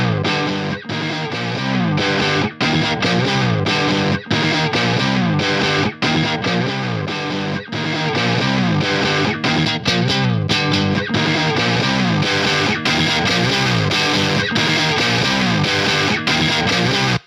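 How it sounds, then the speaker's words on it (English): Electric guitar power chords through an Iron Horse V3 distortion pedal, played loud in a driving rhythm with brief chops between strums, continuing throughout. "Let's bring that distortion in again."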